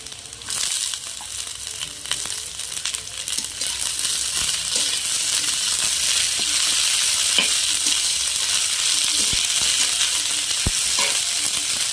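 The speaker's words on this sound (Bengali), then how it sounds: "আনাজগুলো আমি হালকা করে ভেজে নেব।" Shredded cabbage and vegetables frying in a pan make a loud, continuous, close sizzle with faint scraping and crackle throughout, and no voices.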